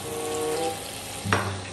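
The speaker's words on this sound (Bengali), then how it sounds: "আবার এটাকে মচমচে করে ভেজে নেব" Chicken pieces that had cooled go back into hot oil to be fried again until crispy, giving a steady close sizzle with a brief louder burst of spitting partway through.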